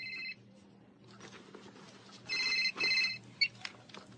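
A telephone rings in bursts of bright electronic warbling tones, one short ring at the start and a louder pair of rings later, with faint background noise and brief rustling between them.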